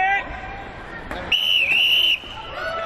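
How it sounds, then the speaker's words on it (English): At a 2014 strongman team event, a single sharp whistle blast lasting just under a second starts the event, heard over crowd murmur in a noisy arena. "So the whistle goes to get this event underway."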